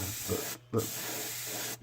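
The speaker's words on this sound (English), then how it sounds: "it's still spraying at 40-50 psi, but I'm going to control the paint" An airbrush sprays paint onto a shad crankbait at 40-50 psi. The close, steady hiss comes in short bursts with brief pauses in between.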